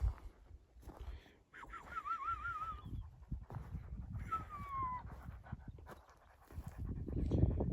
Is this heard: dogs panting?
yes